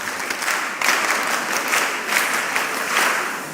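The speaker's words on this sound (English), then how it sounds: "Please clap for her. Clap for her." A mentorship session audience claps for a woman who has just spoken, a moderate, steady patter of hands that swells slightly in waves over a few seconds.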